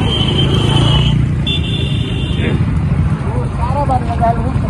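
Riding on a vehicle heading toward a wedding lawn, with steady engine and road noise throughout while people talk over it nearby.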